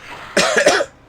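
A single close, harsh cough, a short burst of two or three rasping pulses, with nothing else around it.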